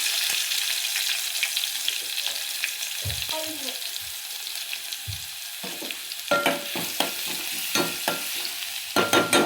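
Garlic and curry leaves sizzle in hot oil for Maharashtrian amti, a steady close frying hiss with a few sharper spoon-and-pan knocks and stirring clatters toward the end.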